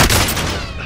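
A brief, loud burst of gunfire in the Warzone video game, a dense crack-filled blast that decays over under a second.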